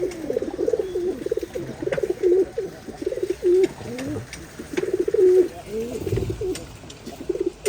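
A pair of khaki brown-necked pigeons coo close by in repeated rolling phrases, with brief clicks and rustles between calls and a faint voice in the background.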